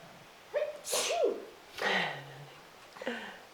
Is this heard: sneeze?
yes